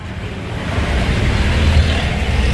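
Air blows from the air conditioner of a Toyota Revo that has lost its cooling, in a steady, loud, even rush with no breaks or voices.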